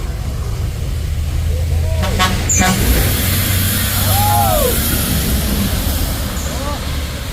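Bintang Utara bus climbing a hill in heavy rain, a low engine rumble under steady rain hiss, with a short horn toot and hissing air brakes midway, while people talk nearby.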